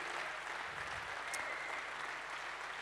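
Audience applause at a French business-conference plenary session honoring politician François Fillon, a steady wash of clapping from a large hall, fairly quiet and distant, continuous throughout with no talk.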